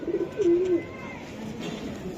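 A Jabra pigeon held in the hand gives a short low coo, close and fairly faint, followed by quieter ambient sound with a hint of voices nearby.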